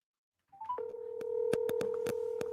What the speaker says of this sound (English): You get the phone ringing.